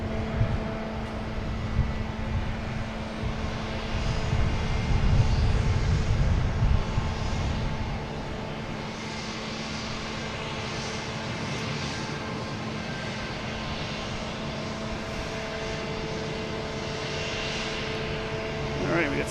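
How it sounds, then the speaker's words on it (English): A Delta Embraer E175 jet airliner bound for Cincinnati hums and whines at Boston Logan Airport, a steady engine drone with a swelling rumble partway through, heard from a distance while voices talk nearby. "We had Delta here heading to Cincinnati"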